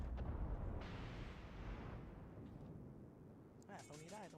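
Naval gunfire in World of Warships from the battleship Kaiser, a heavy boom that rolls into a long fading rumble, followed by a brief voice near the end.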